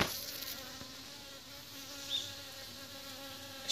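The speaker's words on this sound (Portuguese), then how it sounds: "Cheio de abelhas." Bees buzzing around succulent flowers, echeverias and graptoverias, in a garden: a continuous, close insect drone with several overlapping wingbeat tones, fairly faint and steady, swelling briefly as one passes near.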